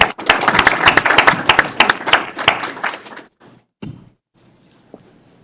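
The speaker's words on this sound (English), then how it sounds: "I think we want to give you a round of applause." An audience at a school board meeting claps in a short burst of applause that quickly fades, followed by a few scattered thumps and near silence.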